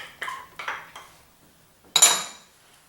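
A spoon clinks and scrapes against a bowl as butter is stirred into a crumbly low-carb peach pie-bar mixture, a few separate strokes then a louder clatter.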